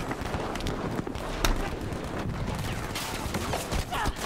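Gunfire in a first-person shooter played on an RTX 3060 Ti, with dense, continuous battle noise of overlapping shots and impacts filling the whole stretch.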